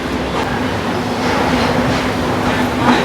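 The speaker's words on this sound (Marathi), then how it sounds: "आता आपली ट्रेन पोहोचली आहे" A Mumbai local train pulls into Sandhurst Road station on the Harbour line, a constant loud rolling rumble with faint rail clatter and a thin squeal underneath.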